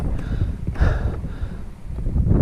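Wind gusts buffet the microphone at a cold, exposed mountain lake in the Hoover Wilderness, a loud rough rushing that swells and eases over a few seconds.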